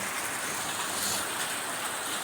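Monsoon rain falls in Kerala as a soft, steady hiss of drops on surfaces, fairly faint and even throughout, with no voices.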